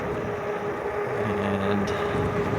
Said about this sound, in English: Alright, so we're speeding up here. I'm throttling through.